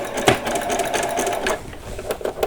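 A sewing machine stitches small doll socks at a fine, short stitch length, a close, steady mechanical whir with quick clicking runs and brief pauses.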